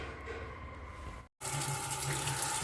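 Tap water runs steadily into a kitchen sink as a continuous close splashing rush, broken by a brief silent cut partway through, then resuming slightly louder.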